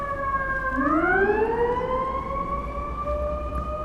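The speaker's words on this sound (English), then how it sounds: "we have a fire department and police siren" Fire department and police sirens wail along a Manhattan street, a rising tone sweeping upward and holding loud and clear over the low city rumble.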